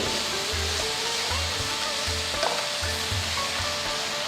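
Colocasia pieces frying in a pan give a loud, steady, dense sizzle throughout, with faint stirring scrapes underneath.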